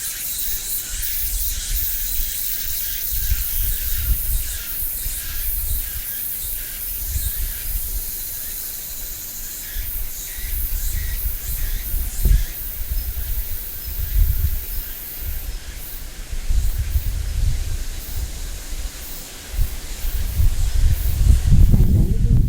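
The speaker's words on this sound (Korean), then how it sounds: "오늘 바람이 많이 부네요" Strong wind on a hot midsummer day outdoors buffets the microphone in low, uneven gusts under a constant airy hiss, swelling louder toward the end, with no clear talk.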